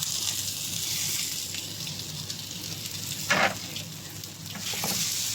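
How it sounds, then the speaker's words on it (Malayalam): Fried tuna pieces dropped into a pan of cooked tomato masala, a steady hissing sizzle with a brief louder spatter partway through, no talking. "ഇതിലോട്ട് ഇനി നമുക്ക് ഫ്രൈ ചെയ്ത് വെച്ച് ഫിഷ് ഇട്ട് കൊടുക്കാം."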